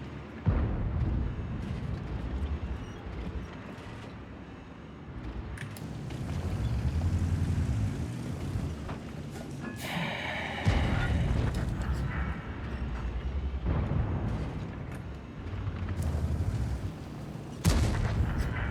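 Artillery fire in the World of Tanks video game, several heavy booming impacts and blasts scattered over a rumbling battle backdrop, some loud and close, others duller.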